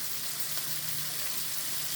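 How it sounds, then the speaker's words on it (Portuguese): Onion frying in a pan with sausage for farofa gives a steady, even sizzle that stays close and constant from start to finish, with no voices. "Então, vou colocar a cebola aqui."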